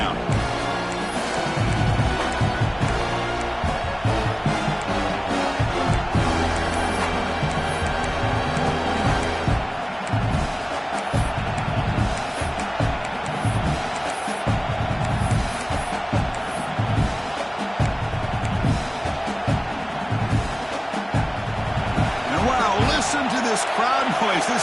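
A packed stadium crowd at an American football game roars continuously, a dense, loud wall of cheering and noise that holds steady throughout, with a commentator's voice faintly underneath.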